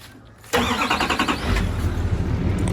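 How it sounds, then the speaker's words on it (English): A pickup truck engine cranks and catches about half a second in, then settles into a steady, close, rumbling idle. "I'll just turn my truck on."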